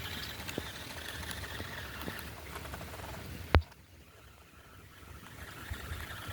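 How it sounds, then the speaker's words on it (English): Heavy pouring rain drums steadily around a Polaris RZR side-by-side in a grassy field, a dense patter broken by one sharp knock partway through before the downpour continues a little quieter. "I'm going to end it here with this pouring rain"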